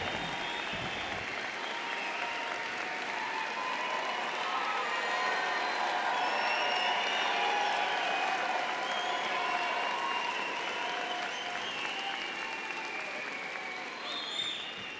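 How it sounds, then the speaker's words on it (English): Graduates at the UIC winter commencement ceremony burst into sustained applause and cheering, a dense, steady wash of clapping from a large indoor crowd with scattered shouts throughout. "Really express your intense emotions right now, clap, shout, cheer"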